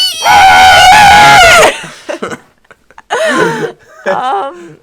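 A person's voice imitates a velociraptor with one loud, harsh, sustained screech of about a second and a half, followed by quieter broken vocal noises and short laugh-like bursts.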